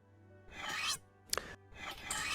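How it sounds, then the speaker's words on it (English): Hand sanding of an object, three short abrasive rasping strokes with small gaps between them, close and fairly quiet, with no other sound present. "This is totally a sanding device."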